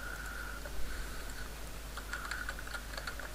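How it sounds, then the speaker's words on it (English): Fingers tap lightly on a computer keyboard in short irregular bursts, faint and close, over a steady low hum. "So I'll type here"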